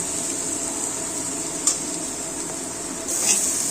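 Ginger garlic paste frying with onions in a pan over low flame, a constant bright hiss of hot oil with one small clink of a spoon and a slight rise in sizzle near the end.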